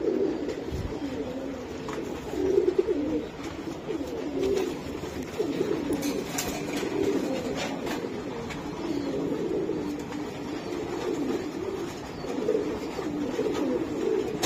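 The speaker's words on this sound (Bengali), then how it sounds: "বিশাল জাম্বু সাইজের কবুতর" A large, jumbo-sized racing pigeon coos steadily up close in low, rolling bursts that repeat through a long stretch, with a few soft knocks and no speech.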